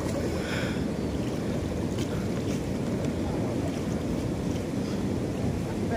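Rubber boat ride on the Waduk Siman reservoir, with a steady broadband rush of water and wind noise against the microphone running throughout, fairly loud and continuous with no clear voices.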